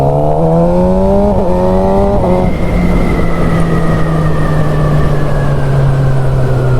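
A Suzuki GSX-R 600 K7 motorcycle engine revs up loud and close, then drops pitch at a gear change and holds a steady high drone under heavy wind rush while riding.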